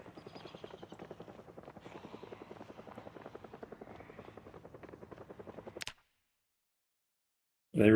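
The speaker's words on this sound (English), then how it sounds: "Yep, it's the heli. This is not good." A helicopter flies overhead in the zombie game Project Zomboid, a steady rhythmic rotor thudding at moderate volume that cuts off abruptly, followed by silence and then a sudden loud burst.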